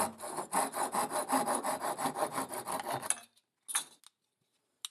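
Rhythmic back-and-forth sawing on a wooden marking gauge handle to cut a slight taper, about a dozen close, loud rasping strokes, then a few isolated scrapes and taps with silence between.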